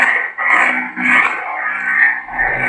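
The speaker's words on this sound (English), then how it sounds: "The saber's nice and loud." A loud electronic lightsaber ignition hum from a Proffie-equipped saber buzzes continuously, swelling and dipping in a few surges, with a low rumble near the end.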